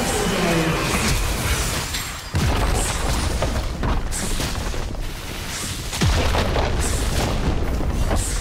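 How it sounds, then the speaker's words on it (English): A turret being destroyed in a League of Legends mid-lane match, Cassiopeia versus Zoe: loud, dense game booms and blasts run continuously, with sharp hits around the second and sixth seconds and a game announcer voice under the chaos. "Team's turret has been destroyed."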